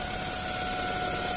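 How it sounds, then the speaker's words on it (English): A 2008 Volvo V50 1.8 petrol manual estate's engine idling smoothly and steadily, a constant low hum with a couple of faint sustained tones, no rattles. "Smooth running engine."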